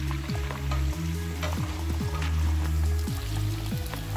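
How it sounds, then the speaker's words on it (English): Chopped onions frying in melted olive oil and butter for Italian risotto, a loud, continuous close sizzle and crackle with a steady bubbling hiss throughout. "the olive oil and the butter, they are all melted now. So I will be adding in my chopped onions."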